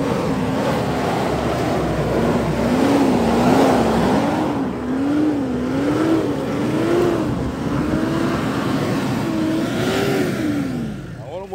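A car stuck in mud on a rural farm property strains as its engine revs in wavering, rising and falling cycles, loud and close, with wind noise and people talking in the background.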